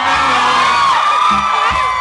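Concert crowd at Nadech's NY Club show cheering and applauding, a steady loud roar of shrill screams and whoops sustained without a break.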